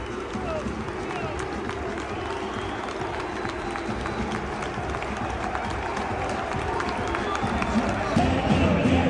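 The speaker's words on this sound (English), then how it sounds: "He's really pumping the home crowd up, and he's pumping the away crowd up as well." Dense, steady roar of a large football crowd at an FA Cup match between Birmingham City and Newcastle, a continuous wash of cheering and noise with indistinct voices nearby, swelling slightly louder near the end.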